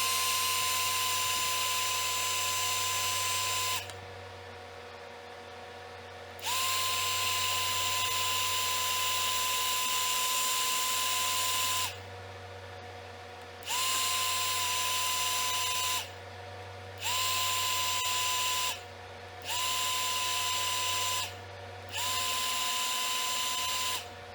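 Heat gun puffing up embossing powder on a card blows a steady, whining roar that switches on and off in several bursts, with short quiet gaps between runs.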